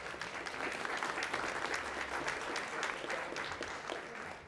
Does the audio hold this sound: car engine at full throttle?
no